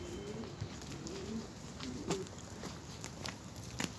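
Pigeons coo softly inside a coop, repeated low rolling calls spaced a second or so apart, heard close over a steady background hiss with a few light footsteps or shuffles.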